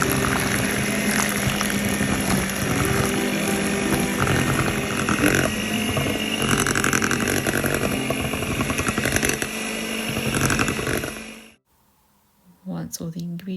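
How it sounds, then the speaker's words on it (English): An electric whisk mixing ripe banana into cake batter runs as a steady, close motor whir with a rattling texture for about eleven seconds, then cuts off abruptly, leaving near silence and a faint knock at the end. "now I'm going to add 2 ripe bananas to that and mix it with an electric whisk"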